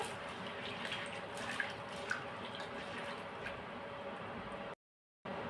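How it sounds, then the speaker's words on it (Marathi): Sabudana (sago) is being rinsed in a bowl of water: steady soft sloshing and trickling with a couple of small drips, followed by a short moment of silence before the watery sound returns. "हा साबुदाणा आपल्याला दोन वेळा धुवून घ्यायचा आहे"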